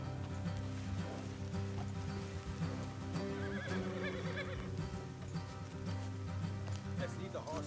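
Horses neighing and whinnying with clip-clopping hooves on a road in a GTA video game, steady and fairly close over game music and ambience.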